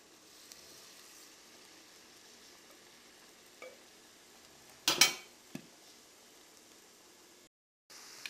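Small balls of herb-flower beignet batter frying in oil give a faint steady sizzle, broken by one sharp clatter of a spoon or utensil near the middle and a brief cutoff near the end.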